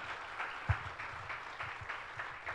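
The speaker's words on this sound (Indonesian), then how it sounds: "Beri tepuk tangan yang meriah." A church congregation claps in a steady, even rhythm, a sustained round of applause heard fairly close with no talk over it.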